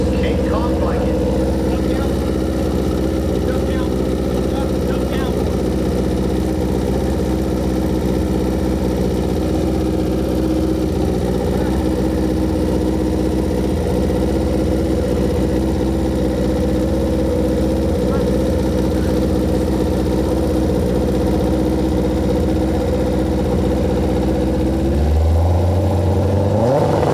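A King Kong drag racing bike engine at a drag strip runs loud and steady for a long stretch, heavy droning with a sharp change near the end, and speech-like noise faintly beneath.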